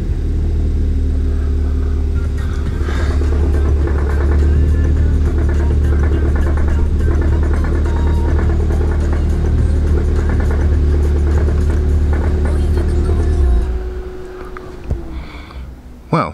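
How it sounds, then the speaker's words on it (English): Engine of a crashed Ford Fiesta ST running with a steady, loud low rumble for most of the time, then cutting out abruptly near the end, leaving a few faint knocks and a brief voice. "Let's see if we can get this car started"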